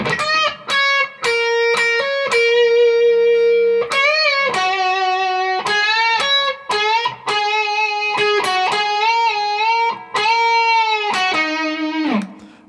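An electric guitar with a distorted, effects-laden tone plays the first line of a solo, with sustained singing notes, string bends and short picked phrases, loud and alone.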